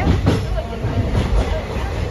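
A passenger train running on the way to Trivandrum Central, heard through a fully open window: a steady, close low rumble with rattling wheel noise throughout, plus faint background voices.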